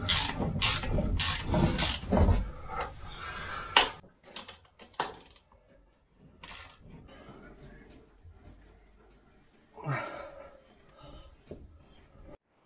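Small ratchet tapping an M12 thread into steel, with rapid rasping clicks in bursts, then quieter scattered clicks and rubbing, close up, with brief talk.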